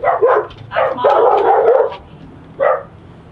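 A dog barks loudly and close in a series of bursts during a law enforcement entry into a home, with yips and a short whimper between the barks.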